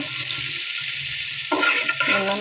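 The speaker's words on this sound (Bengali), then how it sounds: "তেল দিয়ে এখন পেঁয়াজ রসুনগুলো ভালোভাবে নেড়ে চেড়ে নেব।" Onion and garlic stir-frying in hot oil, a steady loud sizzle broken by scraping stirs, close and continuous without speech.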